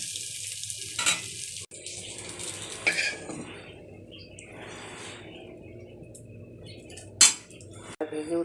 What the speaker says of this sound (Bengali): ডিমটা ভেজে নিয়েছি, এবার আলুটা ভেজে নিচ্ছি।